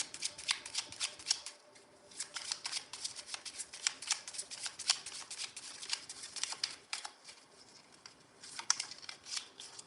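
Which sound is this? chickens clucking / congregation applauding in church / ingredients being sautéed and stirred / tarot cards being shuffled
tarot cards being shuffled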